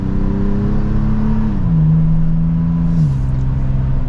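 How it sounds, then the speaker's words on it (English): A deep, steady engine and exhaust drone from a 2023 Toyota 4Runner TRD Pro with TRD exhaust pulling away, the pitch stepping down twice as it shifts gears, loud and close. "Let's listen to that TRD exhaust."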